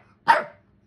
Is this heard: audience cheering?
no